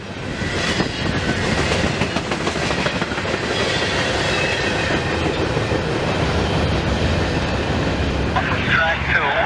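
A CSX freight train passing on the Mohawk Subdivision, a loud, continuous rumble with wheel clatter that stays steady throughout and ends with a higher squeal near the close; some background voice chatter may sit underneath.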